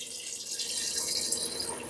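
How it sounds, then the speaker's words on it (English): A descaling pump circulating water through a tankless water heater, a steady, faint, hissy rush of flowing water with no breaks and nobody speaking. "You can hear the pump is on and working."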